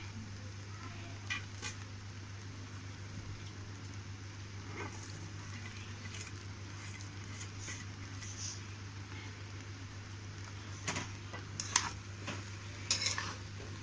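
A spoon stirs chicken fried rice with spring onion leaves in a kadai, faint metallic scrapes and clinks over a low steady hum and soft sizzle, growing a little busier near the end.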